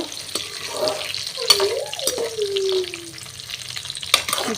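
Raisins and cashews frying for vermicelli payasa give a steady close sizzle, with brief stirring clatters and spoon knocks against the pan.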